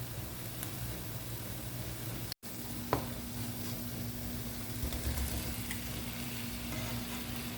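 Boiled eggs go into a sizzling Kerala-style egg roast masala in a pan, a steady frying hiss with one short knock near the start, no voices.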